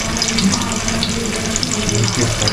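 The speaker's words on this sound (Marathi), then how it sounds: "3 मासे टाकले फ्राय करायला." Fish frying in hot oil in a pan, cooked in a rustic village style, giving a steady crackling sizzle with bright spitting pops, close and continuous with no talk.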